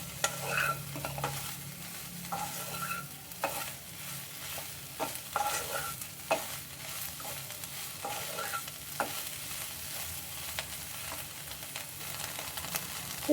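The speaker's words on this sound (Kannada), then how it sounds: "ಸ್ವಲ್ಪ ಹೈ ಫ್ಲೇಮಲ್ಲೇ ಇಟ್ಕೊಂಡು ಚೆನ್ನಾಗಿ ಮಿಕ್ಸ್ ಮಾಡ್ಕೊಳ್ಳಿ" Soya chunks are stir-fried in oil over high flame, a continuous low sizzle punctuated by repeated spatula scrapes and taps against the pan, fairly quiet and without talk.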